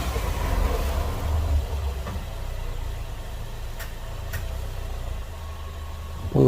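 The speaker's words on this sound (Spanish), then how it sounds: "Ese ruido que se escucha ahí parece que es como si fuera de las llantas, pero viene siendo de lo que es el diferencial trasero" A 2015 Chevy Equinox with a rear differential fault while moving and braking, giving a continuous low rumbling drone with faint light ticks, fairly steady and unaccompanied by voices.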